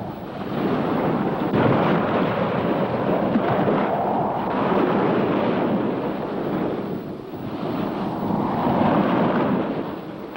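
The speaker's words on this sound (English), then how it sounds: "Out in the channel, the storm hasn't died down yet." Stormy sea in the English Channel, with waves and strong wind roaring steadily and loudly throughout, surging and easing in broad swells with no voices.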